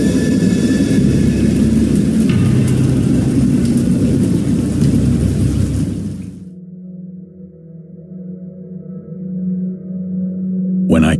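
Thunder rumbles through a wild storm with a heavy, loud, low roar and rain-like hiss for about six seconds, then gives way to a quiet, steady low drone before a brief swell at the end.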